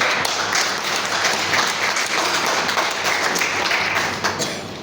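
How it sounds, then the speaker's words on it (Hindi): Loud, dense audience applause at a business plan presentation, a continuous roar of many clapping hands close by, steady for several seconds before easing slightly at the end. "तो एक बार जबरदस्त तालियां हो सकती है इस लाइन के लिए।"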